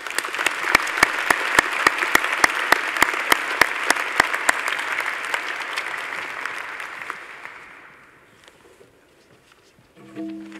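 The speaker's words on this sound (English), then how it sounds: "Please wish them a round of applause" An audience at a Faculty of Medicine graduation ceremony gives a loud, full round of applause for new MBBS graduates, with sharp rhythmic claps standing out before the clapping thins and fades to near silence, then a brief sound returns at the end.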